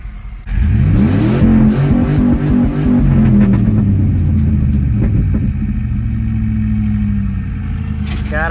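A farm truck engine revs hard toward redline, loud and close, holding a high strained roar for several seconds before easing slightly while still running high.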